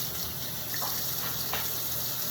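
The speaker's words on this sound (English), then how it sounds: "So I use warm water again." Warm water runs steadily from a tap while hair is being washed, a constant close gushing stream with slight splashing changes as hands move through it.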